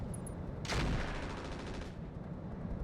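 A Scorpion LT light tank firing its AC-5 autocannon and machine gun in the video game RogueTech: one sharp cannon report, then a quick rattling burst of fire, fairly faint, with no talk.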